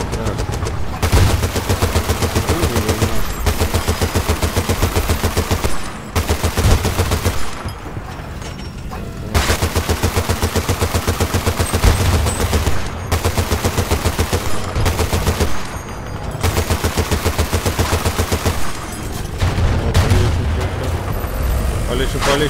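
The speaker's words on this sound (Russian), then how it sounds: "Так, стреляй, сколько дыма." Gunfire rings out outdoors while people talk, the shots coming in dense, repeated bursts mixed with rumbling background noise and short lulls between volleys.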